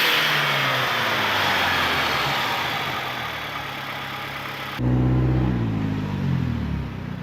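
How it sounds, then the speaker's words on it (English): An upgraded Saab turbo engine accelerates under boost, a loud, rushing roar building for several seconds. It then cuts to a closer, lower engine note with a rising then falling pitch. No one speaks. "This is how a turbo should boost."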